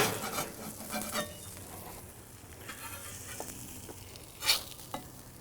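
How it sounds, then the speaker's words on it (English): A metal spatula scraping crispy burger bits and caramelized onions across a hot griddle for a patty melt, with rough scraping strokes over a steady sizzle and a couple of sharper clanks, close up. "Let's go ahead and scrape these crispy hangovers here."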